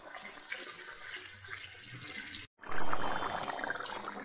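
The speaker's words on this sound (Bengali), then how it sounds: "একটু গরম জল দেব।" Hot water splashes and gurgles into a pot of chicken curry, a soft trickle building into a fuller pour after a brief gap, close by and moderately quiet.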